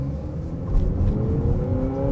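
A 2026 Honda CR-V Hybrid Sport L accelerates to merge with traffic, heard from inside as a steady low engine hum and rising whir, loud and continuous with no talk.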